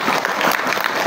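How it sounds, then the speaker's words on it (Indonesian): An audience at an Islamic boarding school's second anniversary celebration applauds after a Quran recitation. The clapping is steady, close and dense throughout the short burst. "Tepuk tangan dulu."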